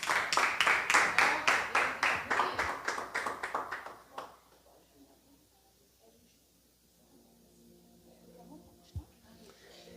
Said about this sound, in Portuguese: Vamos receber ele com as palmas?